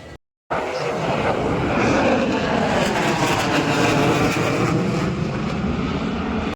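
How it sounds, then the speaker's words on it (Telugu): A deafening, continuous roar of fighter jets passing overhead during the Milan naval exercise at Visakhapatnam, 2024, loud and sustained after a brief silent gap at the start. "జెట్ ప్లేన్స్ వెళ్ళే సౌండ్కి చెవులు అయితే అసలు పగిలిపోతున్నాయి"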